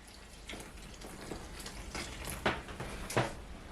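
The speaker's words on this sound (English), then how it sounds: "now I'm going to soak the blended egusi by pouring in some water." Water poured onto blended egusi in a bowl to soak it, soft splashing and sloshing with a couple of louder pours, faint and close, no voices.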